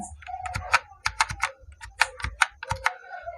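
Keys tapped on a computer keyboard while entering an Excel formula, a quick irregular run of crisp close clicks in short bursts with brief pauses between.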